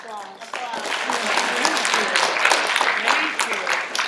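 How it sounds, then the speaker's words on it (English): An audience applauds an opera singer at a school presentation: dense, steady clapping that swells after a quieter start and holds throughout, with scattered voices and cheers mixed in. "Would you please give her a round of Applause."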